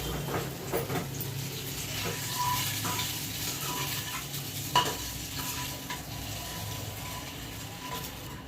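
Eggs fry and are stirred in a pan for egg curry, giving a continuous soft sizzle with scraping and clinking stirring sounds, close and steady, with no talk.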